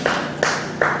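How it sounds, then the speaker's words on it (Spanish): A church congregation claps in unison, three sharp, evenly spaced claps about a beat apart, close and clear with no talk over them. "Baten palmas."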